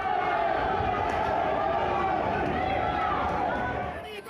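A protest crowd of more than a thousand people marching toward State Parliament, a dense continuous roar of shouting and chanting voices that stays loud throughout, fading slightly at the end.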